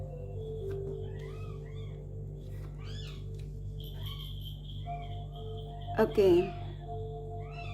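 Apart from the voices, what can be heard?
newborn kittens meowing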